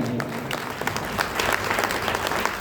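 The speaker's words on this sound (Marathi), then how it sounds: "एकदा महाराजांसाठी जोरदार टाळ्या झाल्या पाहिजे" Loud, sustained applause from an audience at a public lecture on Shivaji Maharaj, dense continuous clapping filling the hall with no speech.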